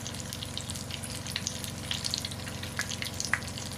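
Eggplant omelette, tortang talong, frying in a pan with a steady close-up sizzle, crackling pops and spits scattered over a continuous hiss of hot oil.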